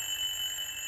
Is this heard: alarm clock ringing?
yes